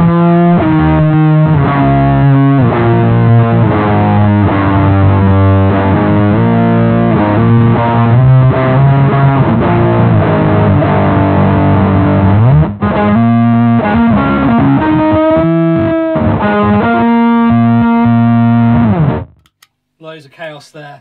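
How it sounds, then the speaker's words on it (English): Electric guitar through a GimpFX octave-down pedal cloned from the MXR Blue Box, set one octave down, producing a loud, fuzzy, chaotic growl beneath sustained notes that plays continuously before cutting off abruptly. "It's got that extra switch on there which allows you either 1 or 2 octaves down."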